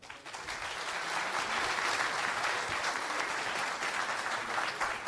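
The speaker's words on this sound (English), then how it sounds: "Round of applause." A FOSDEM 2023 conference audience applauds a speaker on Go functions, a sustained, even roar of many clapping hands throughout, moderately distant and without pause.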